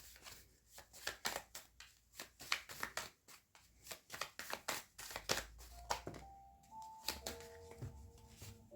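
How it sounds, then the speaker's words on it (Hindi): A thick deck of tarot-style cards is riffled and shuffled in a run of crisp, rapid flutters and slaps, then single cards slide out and are set down, close and fairly quiet with a faint melodic tone entering near the end. "ये काफ़ी सारे कार्ड्स हैं और निकाल लेते हैं 2 कार्ड।"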